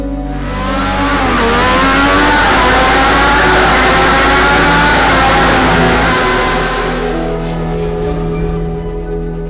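Ferrari 312 racing car engine revving at the Monaco Historic Grand Prix, a loud, close, high-pitched wail that swells, climbs through the revs and fades away after several seconds.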